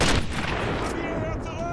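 Gunfire in the Sniper Elite video game, a loud close blast followed by a rumbling echoing tail, with battle noise behind it.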